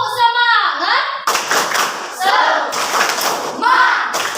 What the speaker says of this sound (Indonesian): Kita coba dulu dengan tepuk semangat, ya.